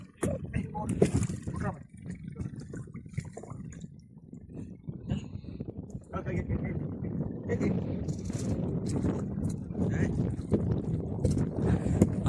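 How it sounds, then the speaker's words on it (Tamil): A sail being hoisted on a fishing boat out on the water in strong wind, heard as steady, loud wind rush and boat noise throughout with rustling and knocking, and voices at times. "இந்த பாருங்க பாய் இழுக்கிறோம்."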